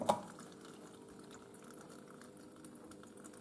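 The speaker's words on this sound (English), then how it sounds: "this softener compartment is clearing out water anyway" Water trickles and drips quietly as it drains from the softener compartment of an Indesit IWC6165 washing machine during a cotton wash cycle, a faint steady flow with one brief louder splash at the start.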